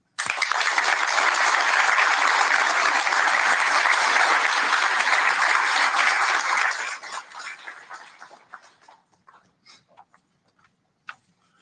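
An audience in Toronto applauds steadily to welcome Moses Znaimer, a full, loud round of clapping for about seven seconds that thins into scattered claps and fades out.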